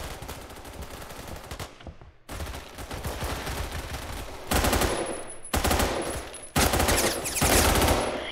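Rapid automatic gunfire from the Roblox game Phantom Forces crackles in several bursts, the short gaps between them growing louder toward the end.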